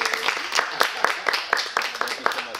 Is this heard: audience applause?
yes